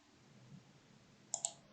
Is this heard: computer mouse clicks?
yes